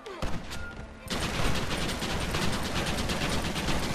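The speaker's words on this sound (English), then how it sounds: "Shit, they have a Gatling gun." A Gatling gun rattles out rapid, sustained automatic fire in the Western video game Red Dead Redemption, loud and dense from about a second in after a brief quieter lead-in with scattered shots.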